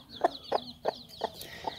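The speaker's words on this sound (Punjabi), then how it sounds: "ਅਤੇ ਲੈਂਦੇ ਹਾਂ ਸਾਡੀ ਕੁੱਕੜ, ਕੁੱਕੜ ਦੇ ਮਸਤੀ ਦਿਖਾਵਾਂ" A rooster clucks in a short series of about five sharp, evenly spaced calls, close and moderately loud, with faint bird chirps in the background.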